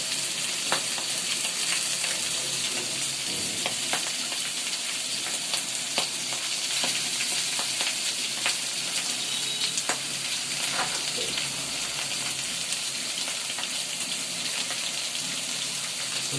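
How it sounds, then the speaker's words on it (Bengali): A large fish head frying in oil in a home kitchen, a steady rain-like crackle and sizzle with scattered pops and occasional stirring throughout, no voices. "দেখুন বন্ধুরা, কিভাবে মাছ ভাজি করা হয়"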